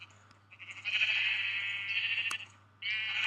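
In the Minecraft game, a sheep bleats in two drawn-out, wavering calls, clear and close over a faint low hum with a brief gap between them.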